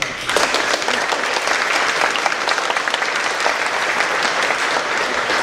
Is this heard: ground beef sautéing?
no